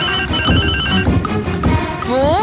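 Household telephone ringing loudly and close, a repeated electronic ring pattern filling the whole stretch with no one answering.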